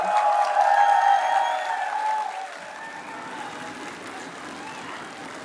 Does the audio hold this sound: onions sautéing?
no